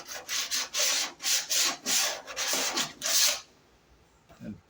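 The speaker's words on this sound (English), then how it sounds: "I got some 40 grit. What I'm going to do, I'm just going to run it over this edge lightly." Forty-grit sandpaper rasps back and forth along a body edge of a 1965 Mustang, about eight rough strokes in rhythm, close and fairly loud, then quiet with a faint final scrape.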